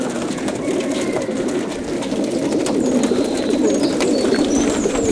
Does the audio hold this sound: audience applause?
no